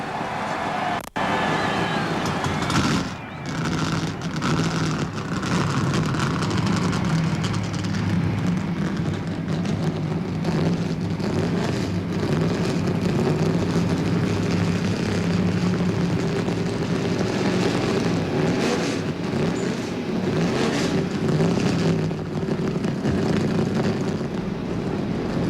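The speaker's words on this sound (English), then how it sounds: "Gentlemen, start your engine." Engines of NASCAR Winston Cup stock cars fire up and roar together at Daytona International Speedway for the 1997 Busch Clash. The sound is a loud, continuous massed engine drone with no speech.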